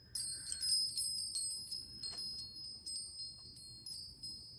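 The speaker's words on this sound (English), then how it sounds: "There's just something so peaceful about the sound of these chimes." Small brass chimes ring with bright, high metallic tinkles, several gentle strikes in a loose irregular rhythm that shimmer and fade, close by and alone without talking.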